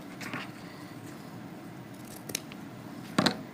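Scissors trimming artificial greenery on a woodland ruffle wreath in gold and red, a few quiet close snips separated by pauses over faint background hiss, the last cut the loudest.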